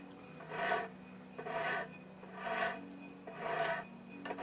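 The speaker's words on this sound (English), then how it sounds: "I'm gonna file this a little bit before I twist it." A hand file rasps across a metal bar at a forge, shaping a chisel edge before twisting: four slow, rhythmic scraping strokes about a second apart, close and moderately loud, with quiet gaps between.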